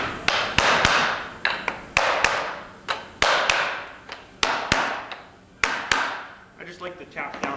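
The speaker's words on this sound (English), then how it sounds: "like to tap down and make sure they're seated against the bottom clamp." A mallet taps clamps down against a scrap block on a laminated wood leg. About a dozen sharp, close knocks come at a steady, irregular pace, each with a short ringing decay, and there is no talk.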